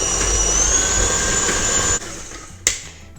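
A hand-held electric mixer whirs steadily at high speed while whipping Turkish pastry cream made with butter and milk, a loud continuous motor whine that cuts out near the end, followed by a brief clatter.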